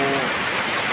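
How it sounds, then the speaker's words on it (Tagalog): Heavy rain pours down steadily, a dense, loud wash of noise holding throughout the short stretch with no distinct breaks. "So talagang malakas na malakas ang ulan at lumalakas pa sobra."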